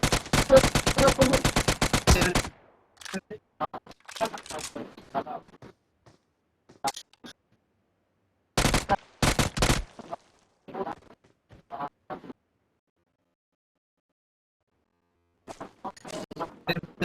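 Gunfire in a shooting video game: a rapid automatic burst at the start and another short burst later, with sparse game sounds between and stretches of silence.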